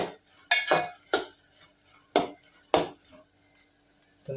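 A spoon scrapes and knocks against a pan while stirring an onion and tomato mixture, giving a handful of sharp, separate clacks spaced a second or so apart over a quiet background.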